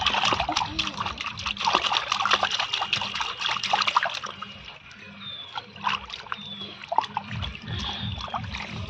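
Water is poured and splashed over a 3.5-month-old baby's head, a close continuous trickling and splattering with small sloshes, and brief voices in the background.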